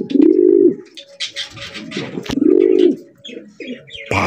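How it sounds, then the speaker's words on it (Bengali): A male grizzle racer pigeon coos up close in two long, rolling, throaty calls, with softer chirps and small rustles between them and a sharp knock near the end. "নরের ডাক তো আপনারা শুনলি, পুরো একদম করকরা সাউন্ড"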